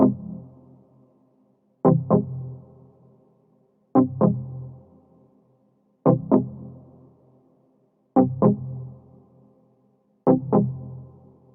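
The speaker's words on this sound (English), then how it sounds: "is like an impact sound, like a pluck sound." Synth pluck in an Afrobeat beat, playing by itself: short, bright impact-like hits, some doubled, recurring about every two seconds, each decaying quickly into near silence.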